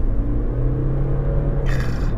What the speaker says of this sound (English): when you accelerate, it does make a bit of a racket